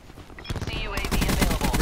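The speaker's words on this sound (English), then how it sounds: "Oh, and I died to the fire shotgun, too." Rapid shotgun blasts from the fire shotgun in Call of Duty Black Ops 4, a loud burst of close gunfire that thickens into dense repeated shots, with explosive crackle over game sounds.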